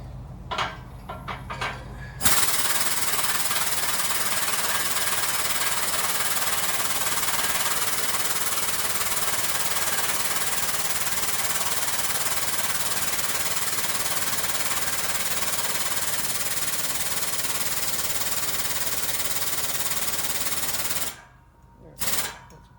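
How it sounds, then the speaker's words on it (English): Pneumatic air tool working gears off the main shaft of an old Muncie four-speed transmission, a loud continuous rattling hammer lasting about twenty seconds, with short bursts at the start and end and voices briefly around it. "I don't really like to run these down with the air."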